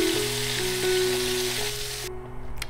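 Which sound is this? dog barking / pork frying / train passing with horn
pork frying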